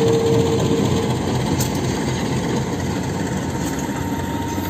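A CC201 diesel locomotive shunting on a rail track rumbles steadily at idle with a deep, continuous engine drone, close and even, with no voices.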